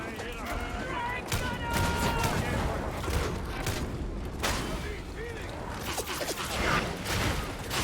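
Gunners fire in Darktide during a Zealot match: scattered bursts of gunfire and impacts come in waves over dense combat noise, with a person talking throughout.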